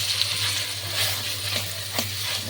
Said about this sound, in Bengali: তেলটা গরম হয়ে গেছে, আমি এবার ডালটা দিয়ে দিচ্ছি।